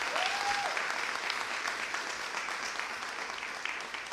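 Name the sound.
audience applause at an event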